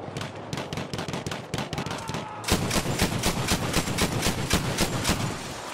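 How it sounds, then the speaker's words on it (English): An anti-air cannon fires in a video game: dense, rapid bursts of shots that run continuously and grow louder and heavier about halfway through, with no talk over them. "I'm on the anti-air cannon."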